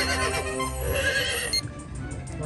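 Horse whinnies and neighs from a horse racing video game ring out loud and bright, layered over busy game audio with a clip-clop of hooves, the sound cutting sharper after a brief break.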